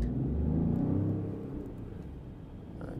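A Peugeot 5008 GT 1.2 hybrid with an eDCS6 gearbox accelerating up a hill, heard from the cabin as a steady low engine hum and rumble that swells briefly and then eases slightly.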